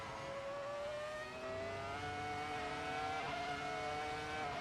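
An open-wheel race car in a racing sim game revs hard under full throttle mid-corner, its engine tone climbing steadily and loud throughout, with a brief dip and shift near the end.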